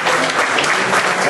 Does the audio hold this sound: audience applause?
yes